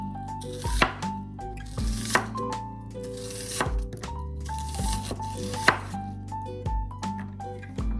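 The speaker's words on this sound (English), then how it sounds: "Cut the onion into cubes about 10 mm wide." A knife chops an onion into roughly 10 mm cubes on a cutting board, with irregular, close, crisp strikes and soft squishy cuts, with no talking.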